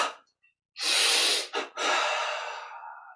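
One deep, forceful inhale through the nose during a guided Kriya Yoga breathing exercise, a loud close rushing breath with a brief catch midway, then a long tapering continuation.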